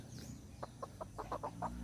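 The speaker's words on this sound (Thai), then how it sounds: "จะเป็นไก่ต่อนะครับ ไม่ใช่เชื้อไก่ป่า ไก่ต่ออย่างเดียวเลย" A Thai decoy rooster (kai tor) clucks in a string of short, close pulses that come quicker and louder toward the end, with no voices.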